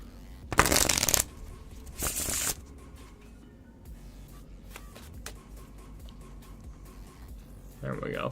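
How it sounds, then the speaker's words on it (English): A deck of playing cards is shuffled up close in two quick riffling bursts, loud and crisp, followed by quieter handling and a voice speaking briefly near the end. "Give this a shuffle."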